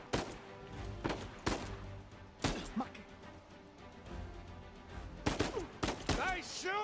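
Several bursts of gunfire crack out in an Uncharted 4 action sequence, sharp isolated shots spaced across the clip amid game ambience, with a character's voice speaking briefly near the end.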